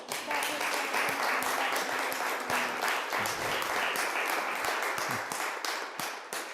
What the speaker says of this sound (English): let us applaud